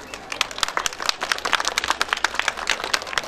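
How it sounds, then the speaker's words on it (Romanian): Villagers applaud at a village celebration in Topolița, Romania, a steady patter of many hands clapping at moderate distance for a few seconds, fairly soft overall. "Haideți să vedem, să-i aplaudăm"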